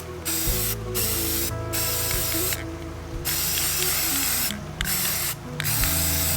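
Spray paint hisses from an aerosol can onto go-kart rims, long continuous bursts broken by short pauses, loud and close with a faint mechanical rattle and no talking.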